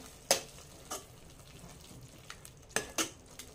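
Turmeric and cumin powder are stirred into a pan with a few sharp spoon scrapes and taps against the metal over a faint, low frying crackle.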